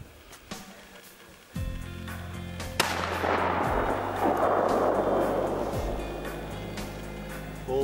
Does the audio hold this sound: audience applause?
no